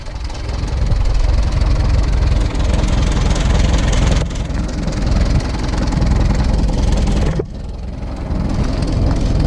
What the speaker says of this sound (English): Aside from the Model U Allis that I'm driving.